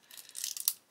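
Plastic bags holding parts and screws for a Hachette Avro Lancaster B.III Dambuster model kit are pulled open, giving a quick, close burst of crinkling and tearing plastic that lasts under a second.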